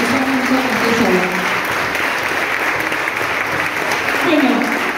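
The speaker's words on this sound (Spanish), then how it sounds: "Un aplauso para todos ellos" An audience at an arts education congress claps loudly and continuously, a dense roar of hands with some voices mingling in.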